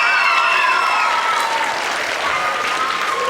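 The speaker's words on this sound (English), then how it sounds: "Kids, let's give these grown-ups a big round of applause" Children and audience at a school Willy Wonka stage show applaud the grown-ups, a steady, dense round of clapping with some cheering that holds loud and even throughout.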